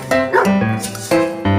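Big dogs bark loudly and close by, a few deep, harmonic woofs in quick succession, with a whining tone between the barks.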